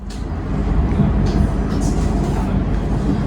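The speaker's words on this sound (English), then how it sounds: "There's a tram ride." Continuous low rumble and rattle of a tram in motion in Cologne, with steady mechanical hum and occasional squeaks, heard from inside the car.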